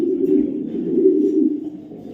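Racing pigeon cock, a checker-patterned male bred for club racing, gives a steady low cooing that runs continuously and close for about two seconds with no other sounds.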